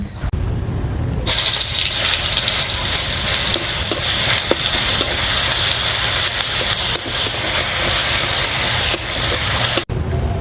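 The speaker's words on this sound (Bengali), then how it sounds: "আদা রসুনটা বেটে রেখেছিলাম দিয়ে দিচ্ছি তেলের মধ্যে।" Ginger-garlic paste hits hot oil in a wok, bursting into a loud, steady sizzle after a quiet first second and holding close and continuous until a brief break near the end.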